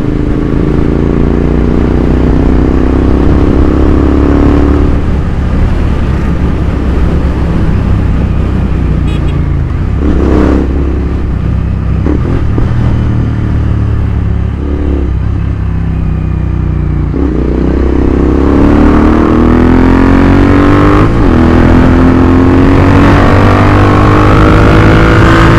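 A Royal Enfield GT650 motorcycle rides fast in fourth gear on a highway, its twin engine droning loud and close with rising and falling revs as the throttle eases off and then opens up again.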